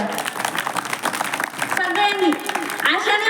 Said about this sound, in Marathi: या कार्यक्रमाचं आयोजन करणाऱ्या तरुणांसाठी सगळ्यांनी एकदा टाळ्या वाजायच्या